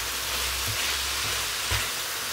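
Chicken with pepper and green crushed chilies cooks in a pan for Greek chicken pies, giving a steady close sizzle with a few soft stirring bumps and no talking.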